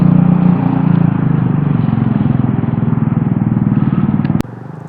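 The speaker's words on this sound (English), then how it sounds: "you may hear our neighbors four-wheeling in the background" Neighbors' ATVs four-wheeling near a homestead give a loud, steady engine drone with a rough, rattly pulse that runs without a break for over four seconds, then cuts off sharply and leaves a quieter background.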